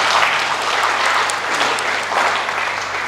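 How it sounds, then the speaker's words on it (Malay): Sustained applause from an audience at a mental health panel discussion, a close, even wash of many hands clapping with no voices over it. "Mungkin kita boleh bagi tepukan sekali lagi kepada"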